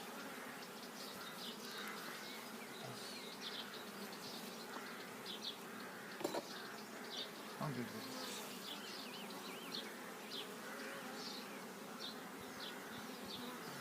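A dense, steady hum of many honeybees buzzing at a nucleus hive, individual bees droning past nearby over the constant swarm.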